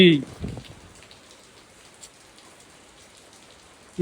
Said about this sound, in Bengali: এই বৃষ্টির মধ্যে গেল কনে